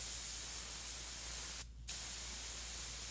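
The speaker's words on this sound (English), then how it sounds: "So as I spray into this area" A steady airbrush hiss sprays paint continuously while painting a cat's eye, briefly cutting out for a moment before resuming, fairly close with no voices.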